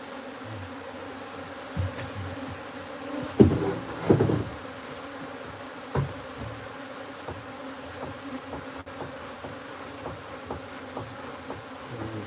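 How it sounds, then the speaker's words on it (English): Wild honeybees buzz steadily throughout as a colony is scooped from its wild comb into a new hive, a dense close drone with a few louder swells and bumps of handling. "try and scoop as many of these bees and put them into the hive as possible"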